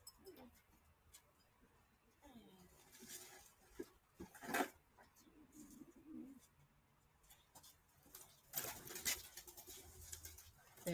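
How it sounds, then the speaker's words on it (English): Pet pigeons or doves coo softly nearby indoors, with a few brief flutters and louder calls, while a person talks over them. "as you can hear, I'm sitting right beside the birds."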